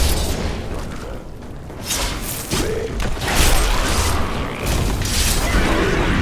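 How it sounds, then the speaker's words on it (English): Explosions go off repeatedly around the player character in the action RPG Diablo 3. They land as booming bursts over a dense, noisy backdrop of combat effects. "delivering gigantic explosions like 15 yards around me"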